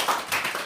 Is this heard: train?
no